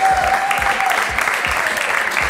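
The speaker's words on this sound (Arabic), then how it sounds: "تصفيقة كبيرة على فايزة" A studio audience on a Tunisian quiz show applauds contestant Faiza with brisk, dense clapping that carries on steadily from start to finish, loud and close.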